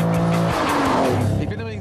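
A 1974 Lamborghini Countach's engine screams at high revs near its 375-horsepower limit, loud and close, its rising harmonic whine continuous with a brief shift in pitch midway.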